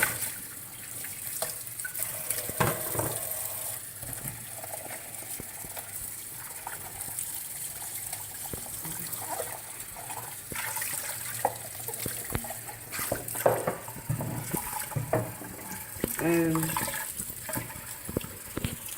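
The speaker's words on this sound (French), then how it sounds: "Bien rincer la vaisselle surtout." Running water from a tap splashes steadily while non-dishwasher-safe dishes are rinsed by hand at a sink, with occasional clinks and shifting gushes nearby.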